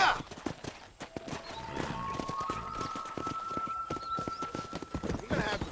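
Horse hooves clip-clopping at a steady trot in the Red Dead Redemption video game, a continuous rhythmic patter close by with a soft whinny, while people talk over it.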